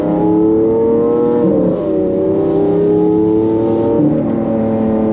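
Lamborghini Aventador LP 700-4 supercar exhaust droning steadily while driving, a loud, sustained engine tone holding one gear with slight pitch dips and rises, close and continuous.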